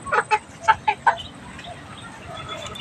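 Chickens at a house cluck nearby in a quick series of about five sharp, separate calls, followed by faint, scattered background sounds with no voices.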